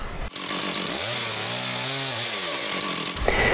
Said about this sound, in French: je décide de couper des plus gros arbres avec ma scie à chaîne